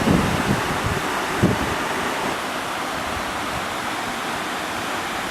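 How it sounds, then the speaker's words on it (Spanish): Xorroxin waterfall in Navarre, a loud steady roar of falling water heard close up, with a few brief thumps near the start and constant broadband rush throughout. "hoy estamos en la cascada de Sorrosi y mirad qué bonita es"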